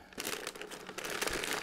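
A plastic food storage bag is folded down before sealing inside a 5-gallon bucket, giving continuous close, loud crinkling and crumpling across the whole moment, with no talk.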